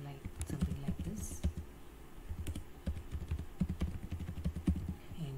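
Keys on a computer keyboard clatter in quick irregular bursts as a query is typed, close and fairly steady, with soft clicks running the whole way through.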